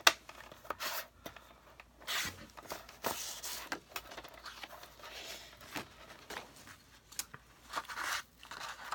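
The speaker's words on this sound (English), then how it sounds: "So I'm going to just cut what I need for one die cut out of here." Scissors cutting cardstock for a die cut, close and quiet, with a series of irregular snips and soft rustling scrapes of paper.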